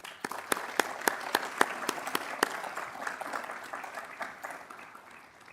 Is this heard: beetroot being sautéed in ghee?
no